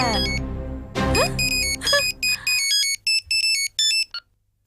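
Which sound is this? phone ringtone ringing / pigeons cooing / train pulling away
phone ringtone ringing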